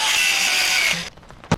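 A power tool cuts through a boat tiller with a steady high whine for about a second, then stops, leaving a brief clatter and a single knock.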